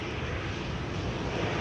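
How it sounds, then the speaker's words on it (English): A KLM airliner arriving from Düsseldorf approaches runway 22 at Amsterdam Schiphol Airport in stormy weather, its engines a steady, broad roar that holds level at moderate distance with no voices over it. "KLM flight 1798, arriving from Düsseldorf, is approaching runway 22"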